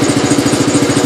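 Cub Cadet 109 garden tractor with a 12 horsepower engine idling close by, a steady loud rhythmic chugging thump with no voices.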